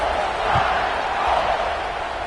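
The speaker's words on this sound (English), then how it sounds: "this crowd is feeling themselves after that last drive" A stadium crowd roars at a college football game between the Gators and Bama, a loud, steady wash of cheering filling the air throughout, with a brief thump partway through.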